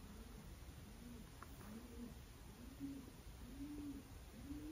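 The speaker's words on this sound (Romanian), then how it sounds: "ce sunete fac porumbei" Soft, low pigeon coos from an attic at 7 a.m. repeat in a slow, regular rhythm, faint and muffled against a steady background hiss.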